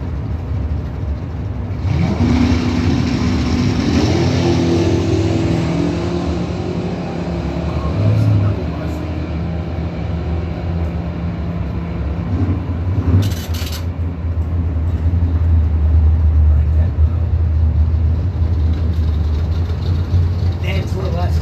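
Drag race cars, a 1971 Camaro and a 1975 Malibu, idle and rev at the strip with a steady engine drone and rising revs, over background voices.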